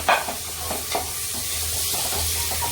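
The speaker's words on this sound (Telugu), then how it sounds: "ఉల్లిపాయల్లో కొంచెం ఉప్పు వేస్తే త్వరగా వేగిపోతాయి అన్నమాట" Onions frying with a little salt in a pan, a steady close sizzle with a few stirring scrapes near the start and a low hum underneath.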